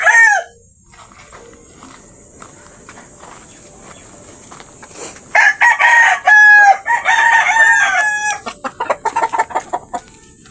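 A tethered Talisayin rooster crows loudly and close after a short opening call, followed by a rapid run of clucks in a backyard.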